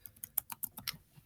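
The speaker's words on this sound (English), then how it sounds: "and I'm going to type" Fingers typing on a computer keyboard make a quick run of about eight soft, close key clicks in uneven rhythm, fairly quiet with nothing else heard.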